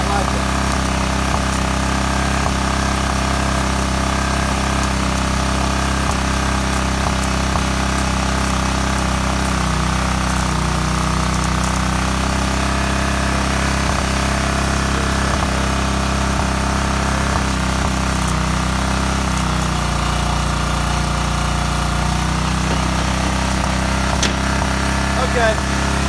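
An old, abandoned generator engine runs continuously close by, a loud steady droning hum with a low rhythmic throb and slight changes in tone toward the end.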